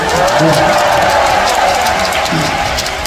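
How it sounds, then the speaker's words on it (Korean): An audience at a church lecture applauds warmly in a steady, dense wash of clapping, with voices mixed in underneath throughout. "너무너무 아주 우리 뜨겁게 다시 한번 박수 한번 쳐주세요."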